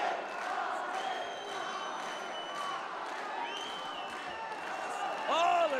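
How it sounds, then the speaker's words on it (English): A fight crowd at a lightweight bout roars and cheers continuously, with a commentator talking over the dense crowd noise and a louder surge near the end. "Listen to this crowd."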